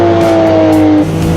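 A 1980s Porsche Group C race car engine drones loudly and steadily up close, its pitch dropping sharply just after a second as it downshifts.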